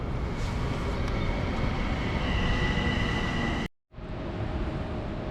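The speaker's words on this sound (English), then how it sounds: "the train's coming now" A train arrives at Penn Station, a loud sustained rumble with a high whine that cuts out abruptly for a moment before resuming.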